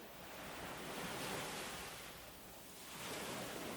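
A large blue sea washes in soft, broad waves, a faint surging hiss that swells, eases and rises again, heard alone with some wind.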